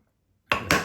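A chisel chops out wood waste in two sharp, close strikes in quick succession after a moment of silence.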